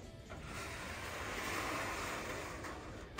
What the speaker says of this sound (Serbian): Jednostavno ćemo metiti vodu.